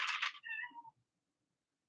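A cat gives a loud, close meow with a drawn-out falling tail, followed by silence and then the start of another cry.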